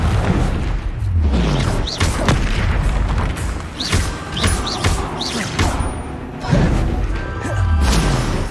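Repeated Confringo spell explosions in the video game Hogwarts Legacy, loud booming blasts with descending whooshing tails, arriving in a rapid irregular series amid other spell effects and combat noise.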